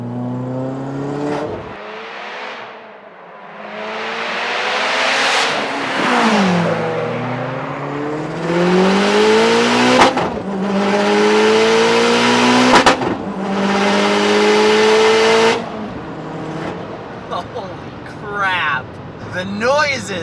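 A 500 WHP 2014 Mitsubishi Lancer Evo GSR with a manual gearbox accelerating hard, loud and close, the engine pitch climbing repeatedly through several gears with sharp breaks at each shift.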